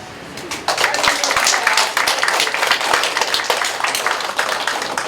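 An audience claps and cheers warmly after a lecture and Q&A session by lawmaker Choo Mi-ae, dense applause swelling in after a brief quieter moment and continuing steadily, with some talk mixed in.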